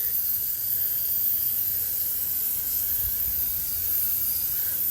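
Harbor Freight coating being sprayed from a can onto a car's transmission during an AW11 MR2 project: a steady, continuous hiss at close range with no breaks, unaccompanied by any talking.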